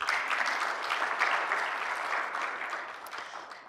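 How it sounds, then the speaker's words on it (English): Steady audience applause fills a conference hall at the opening of a regional meeting of anti-corruption agency heads in Rwanda, a dense even clatter of many hands holding at moderate level throughout with no talk over it. "And I think you should give yourselves all a round of applause."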